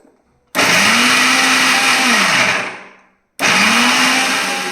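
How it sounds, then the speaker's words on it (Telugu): A mixer grinder whirs loudly as it grinds ginger and garlic into a paste, in two close bursts: the first runs about two seconds and winds down, then after a short pause the motor kicks in again. "ఇప్పుడు మనం అల్లం వెల్లుల్లి పేస్ట్ మిక్సీలో పట్టుకోవాలమ్మా మెత్తగా"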